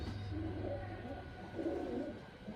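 A pigeon coos softly nearby in two low, throaty phrases over a quiet background hum.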